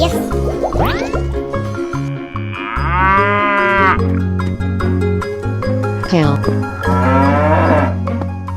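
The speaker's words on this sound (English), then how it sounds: "Cow." Cows mooing over a cheerful children's music backing: two long, loud, drawn-out moos, each rising and falling, following a short squeaky call, all close and clear.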